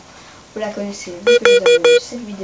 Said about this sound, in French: Donc excusez-moi pour le bruit bip bip bip.